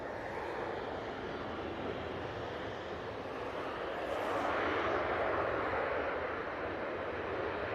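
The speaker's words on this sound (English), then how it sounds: "we've got KLM 737 just arriving" A KLM Boeing 737 arrives and rolls out on the runway at Manchester Airport, a distant, steady engine rumble and wash that swells slightly midway, with no voices over it.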